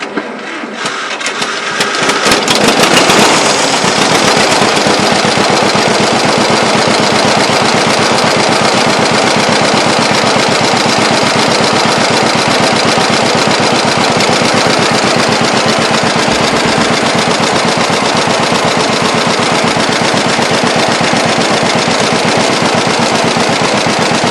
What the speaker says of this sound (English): So I'm going to hit the starter button and see what happens.